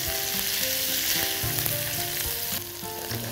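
Spicy smoked kofta sizzles loudly in a hot pan, a constant crackling hiss broken by brief scraping knocks as the pieces are turned.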